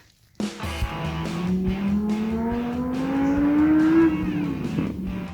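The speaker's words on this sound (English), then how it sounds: "We've been hearing these cars zooming on around for the last like 10 minutes or so, and if you look right there, that's looking like a racetrack." A race car on a racetrack heard from a hiking trail nearby, its engine note rising steadily as it accelerates past, loud and continuous for several seconds before easing off.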